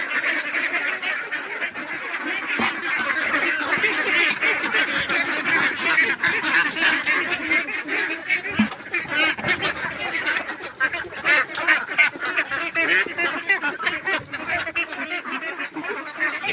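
A farmyard flock of ducks just over two months old quack continuously and densely, a loud close chorus of overlapping calls with no talking.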